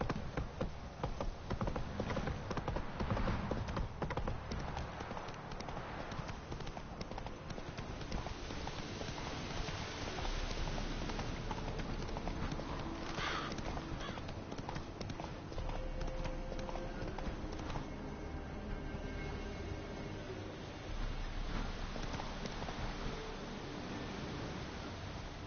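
Geralt's horse Roach galloping in The Witcher 3: Wild Hunt, a steady rapid patter of hooves continuing throughout, mixed with ambient game noise at moderate level, with no clear voices.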